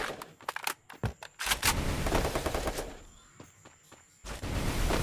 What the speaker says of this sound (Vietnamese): Nào, Tuấn Anh đang di chuyển khá là tự tin và chĩa súng cờ bắn nè